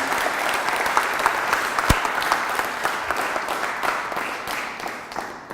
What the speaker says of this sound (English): I just want to give a quick round of applause to my partner, Brian Alvey